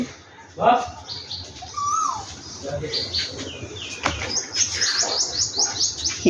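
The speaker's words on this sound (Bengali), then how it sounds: "সকালবেলা পাখি ডাকতেছে" Birds chirping outdoors near a tamarind tree in the morning: scattered high tweets and calls, faint to moderate, with people talking nearby and brief wing flutters.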